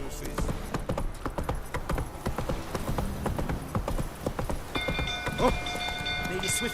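Horse hooves galloping in the video game Witcher 3, a rapid rhythmic clip-clop of hoofbeats that carries on throughout, with brief voices and scattered game sounds near the end.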